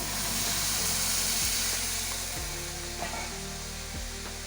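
Hot water poured into a pan of frying suji (semolina) snack mixture sets off a loud, steady sizzle and hiss, with a few soft knocks of utensil against pan.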